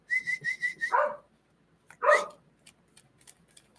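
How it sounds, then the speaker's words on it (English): A dog whines in a rising series of short high cries, then lets out a longer howling yelp, close and clear, followed by faint soft noises. "he's always got to sing his happy doggy songs"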